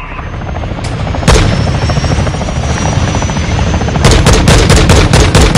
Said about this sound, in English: That was the helicopter.